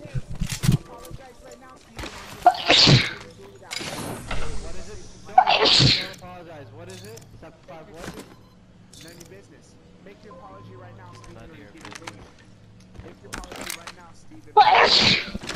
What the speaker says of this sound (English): is that you fucking sneezing?